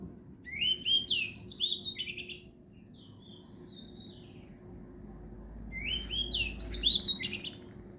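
Birds sing in two bursts of bright chirps and whistles, separated by a quieter stretch with only a faint distant call, over a low hum.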